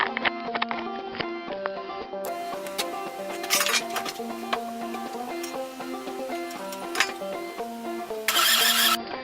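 A Volkswagen engine cranked over by the starter for a compression test, a steady rhythmic churning with metallic clanks and rattles, close and continuous, with no talking.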